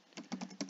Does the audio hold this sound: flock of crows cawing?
no